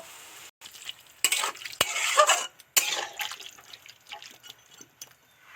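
Sizzling vegetables in a pan with water added, giving loud bursts of hiss and bubbling, stirring and dripping, uneven and close, with no talk.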